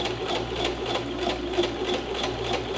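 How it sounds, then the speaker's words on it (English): Sewing machine back stitching at the end of a double dart, a quick rhythmic mechanical chatter of needle strokes, close and steady throughout with no talk. "once I get to the end, I'm going to do a back stitch again"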